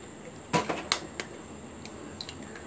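Eggs are cracked against a hard edge for a mushroom omelette, two sharp close knocks early on followed by a few fainter taps and clicks in a quiet kitchen.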